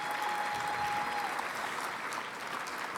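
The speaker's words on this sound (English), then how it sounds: "I'll clap for that." Applause from a large audience at a National Guard gathering, a continuous wash of clapping held at an even, moderately loud level, with a faint steady tone running beneath the first half.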